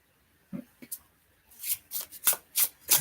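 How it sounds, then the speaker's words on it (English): Tarot cards riffled and shuffled in a series of crisp, papery bursts, a couple of short flicks first, then several rapid rhythmic shuffles close by. "gonna shuffle again."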